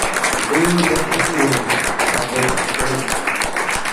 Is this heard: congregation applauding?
yes